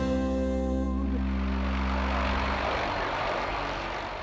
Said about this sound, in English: It's not everybody gets to go to work in a helicopter